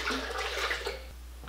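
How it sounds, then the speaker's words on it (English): Water is poured out of a portable hydrogen water bottle, giving a steady splashing, gushing rush for about a second before it fades. "Let's dump this water out."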